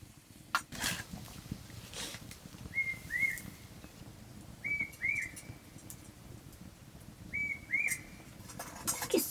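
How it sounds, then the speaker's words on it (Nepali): Birds calling in a jungle near a village: three pairs of short, clear chirps spaced a couple of seconds apart ring out over a steady rustling background, with a few scattered clicks. "कसरी चरा पनि कराउँछ"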